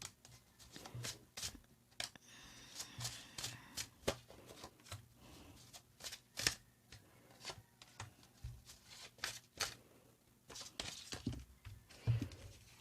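Playing cards being shuffled in a run of quick riffles and soft rubs, with brief pauses between bursts, close and fairly quiet.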